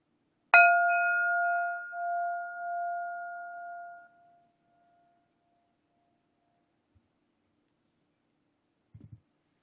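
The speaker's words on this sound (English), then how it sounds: "Here comes first bell." A single meditation bell strikes once, clear and bright, with a long ringing tone that fades over about three and a half seconds into silence, followed by faint soft shuffling.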